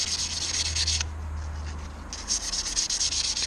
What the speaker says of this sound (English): I'm going to go and sand the long way as well